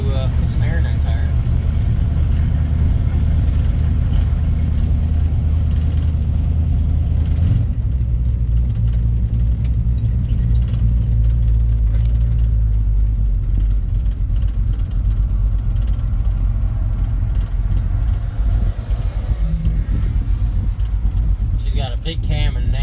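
Rough, loud idle of a 1967 Mercury Cougar with a big cam, a deep lumpy rumble filling the whole stretch, dropping in pitch briefly partway through, with someone talking over it.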